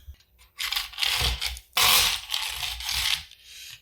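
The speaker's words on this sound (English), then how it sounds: "That was the sound of gears stripping" Harsh grinding and scraping of a kitchen gadget's small plastic gears stripping, in a few rough bursts of about a second each, close up and fairly quiet.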